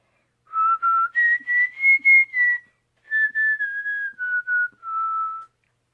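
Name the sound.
person whistling a tune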